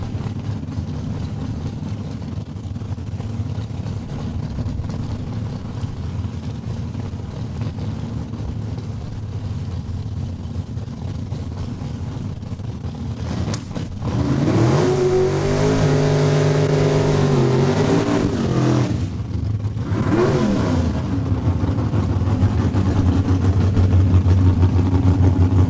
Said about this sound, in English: Chris and Catherine out of Dundurn with the 65 Belvedere getting the time slip with another Mopar, the 72 Dart